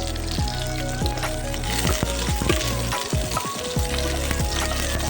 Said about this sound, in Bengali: ফুলকপিটা একটু ভেজে দেবো প্রথমে